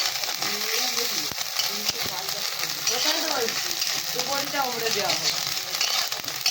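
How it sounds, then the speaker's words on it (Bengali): Ginger and onion fry in oil in a pan with a constant crackling sizzle and occasional stirring clatter, while a voice talks faintly underneath. "এবার একটু আদা দিয়ে দিচ্ছি আদাটা এবার একটু বসিয়ে নেব"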